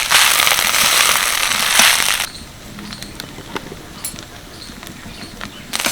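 Moringa leaves sizzle and wilt in a hot pan as they are stirred, a loud dense crackle that stops abruptly after about two seconds and leaves faint scattered ticks and scrapes.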